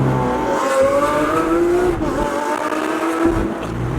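Batmobile-spec Lamborghini Aventador SVJ supercar engine revving nearby, loud rising and falling blips of engine pitch over a steady mechanical roar, with no talking.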